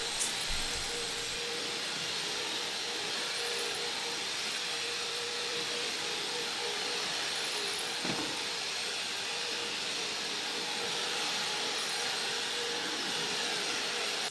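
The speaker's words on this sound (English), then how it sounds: "Let the vacuuming games start." Vacuum cleaner running steadily at low volume through a home during a weekend deep clean, a constant even whoosh with no talk.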